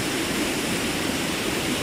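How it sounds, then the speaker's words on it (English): A small waterfall at Glen Helen on the Isle of Man, swollen by recent rain, rushes steadily nearby, a dense, even wash of splashing water with no breaks. "this little waterfall here, swelled up by yesterday's rain"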